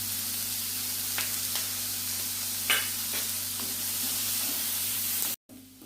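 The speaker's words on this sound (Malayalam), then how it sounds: "ഇത് നല്ലപോലെ ഒന്ന് വഴറ്റട്ടെ. നല്ലപോലെ വഴന്ന് കിട്ടാനായിട്ട് നമുക്ക് കുറച്ച് ഉപ്പിട്ട് കൊടുക്കാം." Sliced onion with salt sautés in a hot pan for egg curry, a steady close sizzle broken by a few soft scrapes and stirs, ending abruptly.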